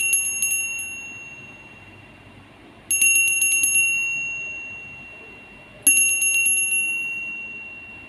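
Bright metallic bell struck three times at even intervals, each ding ringing out clearly and slowly fading over a quiet background.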